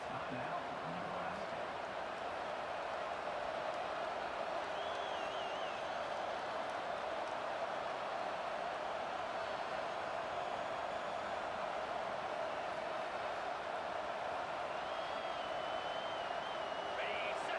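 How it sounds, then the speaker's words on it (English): Stadium crowd roaring in EA Sports College Football 25, a steady, dense wash of cheering and noise that holds throughout without letting up, with no clear commentary over it. "The roar of the crowd trying to fuel this defense to keep them pinned in their own end"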